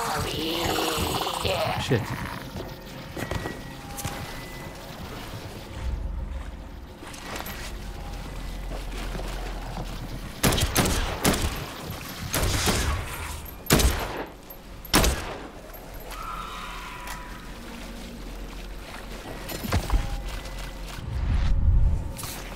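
Gunfire in Dead Island 2 inside the Brentwood sewers, scattered loud shots and short bursts among rumbling game noise, with people talking in between.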